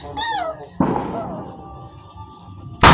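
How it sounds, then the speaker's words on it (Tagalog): A sharp New Year firework bang cracks out, followed by crackling fizz, then another loud burst at the end; a voice shouts briefly at the start. "Okay, fireworks!"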